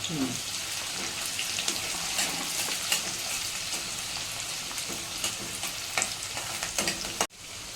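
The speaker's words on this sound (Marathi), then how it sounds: "कांदा फ्राय करायचा थोडासा" Chopped onion sizzles in a kadhai for a mixed vegetable bhaji, a continuous close frying hiss broken by scattered scrapes of stirring before an abrupt cut near the end.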